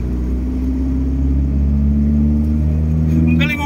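A Toyota Vios engine drones steadily while driving, a loud, low, constant rumble with a sustained tonal hum, holding at an even pitch and barely rising, with a brief higher squeak near the end.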